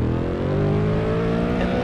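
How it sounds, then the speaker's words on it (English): A BMW E92's V8 engine in Assetto Corsa, a steady, loud, close droning hum held at a constant pitch without clear revving, no talking over it. "I can tell this is a V8, if you know what I mean."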